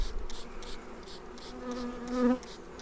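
Honeybees buzz around a hive, with a steady close hum and a louder drone as one passes near the microphone.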